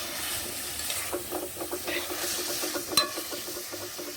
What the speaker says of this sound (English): Don't crush the ackee, just stir that everything goes through.